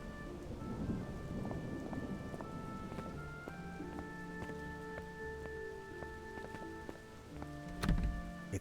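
Steady rain pours with rolling thunder outdoors in the video game Adam's Venture: Origins, with a deep rumble early on and another swelling clap near the end, under a layer of soft background music.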